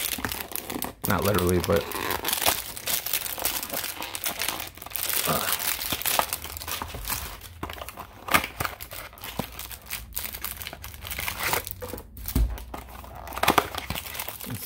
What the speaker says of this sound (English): let's go ahead and crack these guys open and see if we can pull a hit